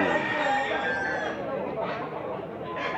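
A rooster crows at a Cebu poultry market in Consolacion, its call blending into a busy wash of noise and distant chatter for a few seconds.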